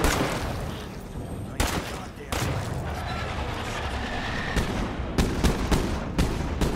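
A shotgun fired semi-automatically in the State of Decay 2 video game booms in several loud, close, sharp blasts, a few spaced apart and then a quicker cluster, over a rumbling game background.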